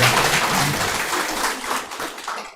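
A church congregation applauding in thanks, a steady wash of clapping that holds for a couple of seconds and then thins out toward the end.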